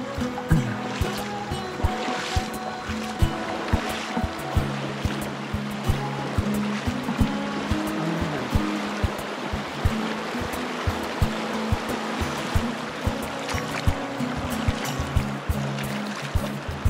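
Wading across a meltwater-swollen river in the Finnmark wilderness on a fishing trek: steady rushing, splashing water close by with broadband turbulence throughout, no voices.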